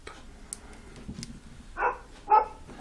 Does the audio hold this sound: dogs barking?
yes